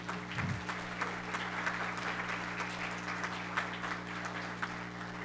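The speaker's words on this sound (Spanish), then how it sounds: "un aplauso para Jesús." Audience applause at a panel talk on safeguarding and consuming national beverages, a steady wash of clapping from a seated crowd lasting several seconds at moderate level, with a low steady hum beneath.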